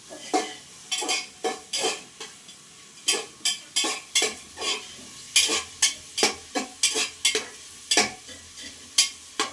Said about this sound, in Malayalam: ഞാനിപ്പോൾ ക്യാരറ്റും പച്ചമുളകും കൂടി ഇടുന്നുണ്ട്. ഇതൊന്ന് വഴറ്റിയെടുക്കാം.